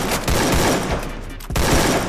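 Rapid bursts of automatic gunfire in the Free Fire mobile battle game, loud and close, with two dense volleys separated by a short gap.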